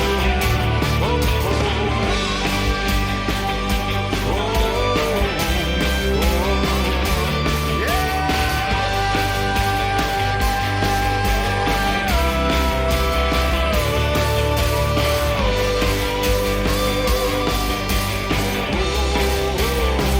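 A song plays loud and continuous throughout, with a full band, sustained melodic lines and a steady driving rhythm.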